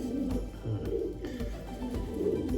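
Racing pigeons, including a checkered Harry Rudy bird, coo in soft, low repeated phrases that pulse steadily and sit close against a faint room background, with no talking.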